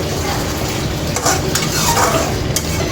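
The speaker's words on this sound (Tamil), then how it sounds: "இந்த டொமேட்டோ சாஸ் கொஞ்சம் ஆட் பண்ணிக்கிறேன். ஆட் பண்ணி நல்லா கலந்து விட்டுக்கலாம்" Paneer butter masala with chilli and tomato sauce is stirred in a hot pan. A loud, dense sizzle runs throughout, with short scraping and clinking stirring strokes on top.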